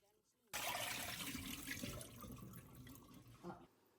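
Tap water runs steadily into a sink while pieces of pork hog are rinsed, a close, full splashing wash that lasts about three seconds before cutting off.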